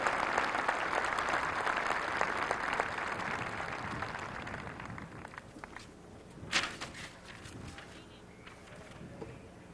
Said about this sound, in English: I think they all deserve our thanks and our applause.